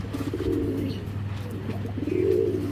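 Two pigeons coo close by, low throaty rolling calls swelling and fading over a constant background hum.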